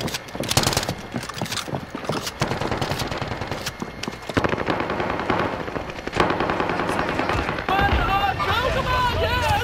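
Rapid automatic gunfire from the Call of Duty: Modern Warfare video game crackles in dense bursts, mixed with other in-game effects and players talking and shouting over the action.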